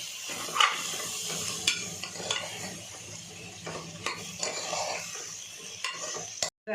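Spices and vegetables being stirred in a cooking pot, a sizzling fry under the rhythmic scrape and clink of a spoon against the pot, with a few sharper knocks near the end.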